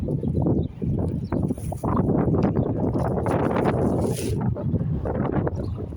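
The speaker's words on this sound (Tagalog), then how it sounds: "Malakas yung hangin." Strong wind buffets the microphone in loud, continuous roaring gusts with rumbling low-end noise throughout.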